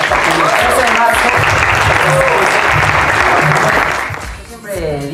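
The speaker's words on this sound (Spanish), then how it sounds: "Quiero pedir un aplauso para nuestro elenco de la nueva serie original de Disney" Applause from an audience for the cast of a new Disney original series, loud sustained clapping with voices mixed in, fading near the end as a person begins talking.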